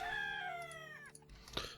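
A rooster crows once in the TerraFirmaCraft video game, a clear drawn-out harmonic call that tails off, then a short sharp sound follows.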